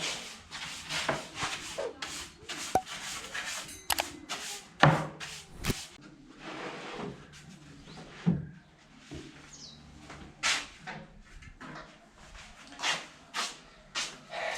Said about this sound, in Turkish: önce burada üzerindeki talaşları atarak işimize başlıyoruz